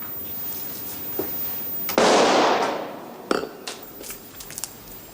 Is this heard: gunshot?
yes